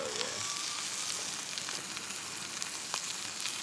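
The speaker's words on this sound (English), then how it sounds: "We're listening out for a good sear." Venison heart searing in a hot pan, a steady moderate sizzle with faint crackles and pops running throughout, nobody speaking.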